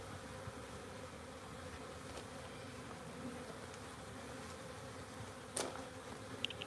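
Honeybees hum steadily around a backyard beehive, a dense continuous buzz close by, with a few brief clicks and knocks near the end and no talking.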